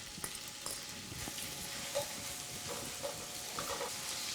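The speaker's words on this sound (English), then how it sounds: "we've got some fat in here, so it's going to splatter a bit, and it's going to make a lot of noise" Prosciutto sizzles and renders its fat in a pan while cooking an asparagus pasta, giving a continuous dense crackling hiss with small pops scattered throughout, fairly close and steady, with no voices over it.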